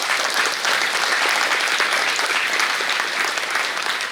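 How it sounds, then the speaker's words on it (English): Audience applause for the speakers at a valedictory function, a dense, steady burst of many hands clapping close by that holds at an even level throughout without any voices. "I request all of you to give a big round of applause to our speakers."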